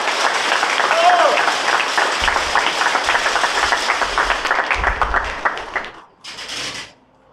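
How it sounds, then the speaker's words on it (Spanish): An audience at an outdoor political gathering in Ciudad Renacimiento, Guerrero, claps together for a guest speaker, a dense burst of applause with some cheering mixed in that fades out toward the end. "Fuerte aplauso, por favor."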